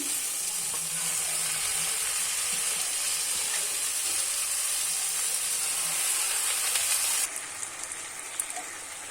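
Spinach dropped into a pan of fried spices sizzles steadily and loudly for several seconds, a dense crackling hiss that eases slightly near the end, with no talking.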